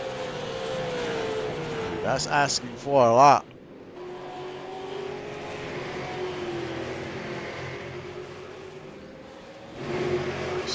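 Super Late Model race car engines at Five Flags Speedway in iRacing drone steadily and loudly, with pitch shifts and a brief rising whine as cars pass, under continuous race commentary.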